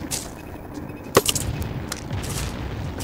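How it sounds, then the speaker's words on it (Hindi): Gunfire in PUBG Mobile: one sharp, loud shot stands out midway, with softer distant pops and rumbles scattered around it. "गोलियां चल रही है वहां को, वहां को जाने वहां को"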